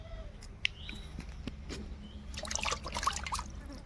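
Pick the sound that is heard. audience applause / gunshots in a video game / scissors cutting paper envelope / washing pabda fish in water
washing pabda fish in water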